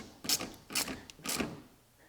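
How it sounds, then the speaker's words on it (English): Three quick ratchet bursts tighten a cold air intake on a Mazda RX-7 FD, each a short, close clicking rasp spaced about half a second apart. "And then I'm gonna get my ratchet."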